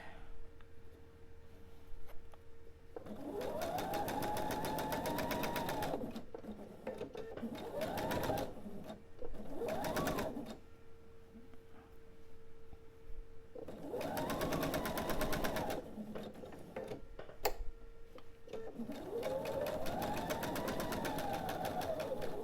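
A sewing machine pieces triangles for a table topper in several separate runs of steady whirring stitching, each a few seconds long, with quiet handling sounds in the gaps.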